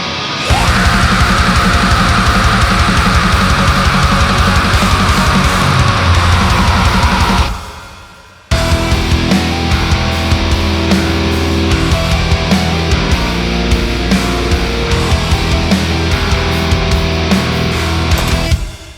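Primitive black metal song with a distorted, dirty bass that cuts through the mix: dense, loud full-band playing throughout, a brief near-silent break around the middle, then the song resumes with pounding low end and no talking.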